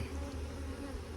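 Dense, steady droning of honey bees at a domestic hive opened for honey harvesting, with frames being worked; a close, continuous buzz filling the moment with no talk.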